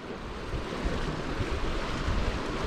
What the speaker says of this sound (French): Il y a des vagues, hein. C'est pas facile.